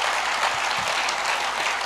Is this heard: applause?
yes